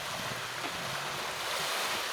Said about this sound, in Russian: В такой ветер, в такую волну.